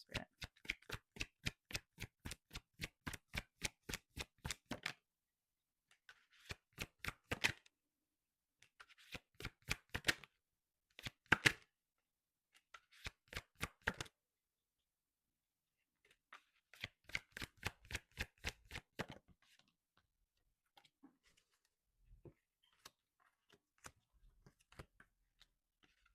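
Oracle cards shuffled by hand in several bursts of quick, crisp riffling clicks separated by short pauses, close and clear with no talking.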